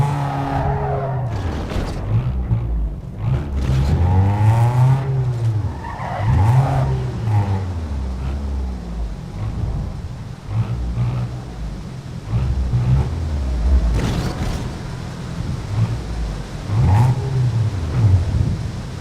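Car engine in Need for Speed Underground 2 bouncing off the rev limiter, a loud, steady stuttering drone with repeated pitch sweeps as revs climb and fall, accompanied by tire skids throughout.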